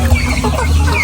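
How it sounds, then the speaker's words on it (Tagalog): Farm chickens cluck in a short, close, loud burst of low throaty calls lasting about a second. "Yan, may mga manok tayo dito banda din."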